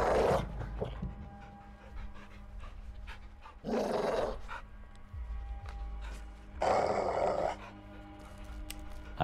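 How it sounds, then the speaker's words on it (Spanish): A big caged dog in Call of Duty Modern Warfare II pants steadily, with louder growling bursts rising in three spells, close and alone with no talk over it. "¿Has visto al perro enjaulado?"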